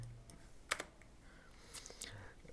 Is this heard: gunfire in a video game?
no